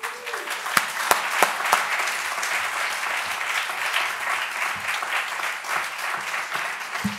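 An audience welcomes author Anthony Doerr home to Rome at a literary festival preview with steady, sustained applause. A few sharp claps stand out early, and the clapping holds at an even level throughout with no talk over it.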